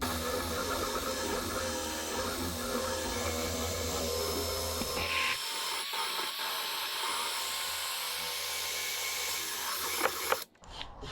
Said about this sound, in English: Best way to do that is with a drum sander, and you can go around and smooth it all out so you get a nice ring.